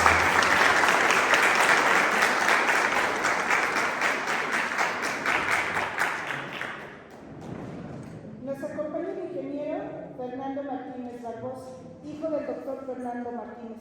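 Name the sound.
audience applause at book presentation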